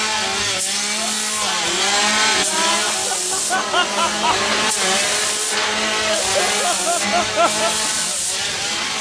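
A chainsaw revs at a Halloween scare attraction, Tulleys Shocktober Fest, its steady engine drone running loud and continuous under excited shouting and voices throughout.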